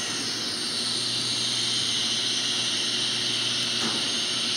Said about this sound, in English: we're going to watch the takeoff from the outside